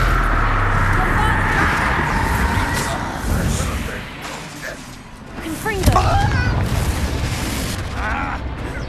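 A Confringo blasting spell going off in Hogwarts Legacy, a booming burst with rumbling low-end impact and crackling debris, followed by a second swell of blast noise, with a voice heard in the mix.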